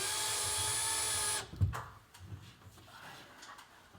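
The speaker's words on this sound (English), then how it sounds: "I just want to do some more screwing, maybe a couple of turns" A short motorized whir drives a screw into an LED ceiling light fixture, running steadily for about a second and a half before cutting off, then a few faint knocks and handling noises follow.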